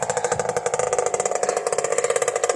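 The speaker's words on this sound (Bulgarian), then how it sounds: "Че му се гаси мотор." A motorbike engine idles and putters close by in a steady, rapid pulsing rhythm, running on its own without talk.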